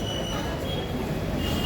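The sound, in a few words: train at Kozhikode railway station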